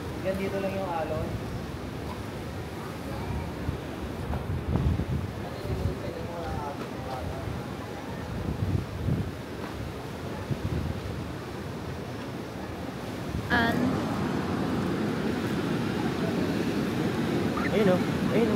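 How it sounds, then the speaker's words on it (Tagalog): Ocean surf at a rocky shore at Treasures of Bolinao rolls in as a broad, continuous wash. Voices talk over it, and the waves swell louder near the end. "Yan dito lang yung alon"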